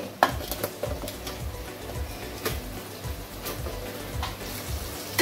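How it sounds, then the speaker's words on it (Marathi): Crab pieces, nangde and pende, frying in a ground spice paste for a Maharashtrian crab curry, giving a low steady sizzle with scattered stirring scrapes and soft taps throughout, no talk. "असे छानपैकी असे वाटणामध्ये चांगले फ्राय करून घ्यायचे"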